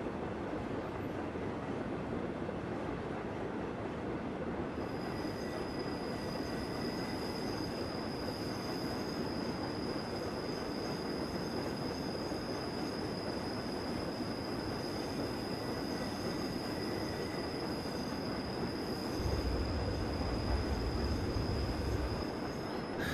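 Passenger train running on rails on the Albula Line in Train Simulator 2016, a steady loud rumble of wheels and carriage noise with faint squealing tones, continuous throughout.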